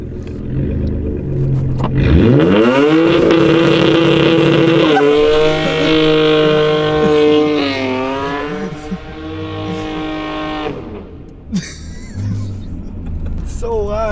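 A loud Nissan R32 Skyline engine with a full exhaust revs hard and holds at a high pitch, stuttering against the rev limiter for several seconds, with voices shouting over it before it drops off.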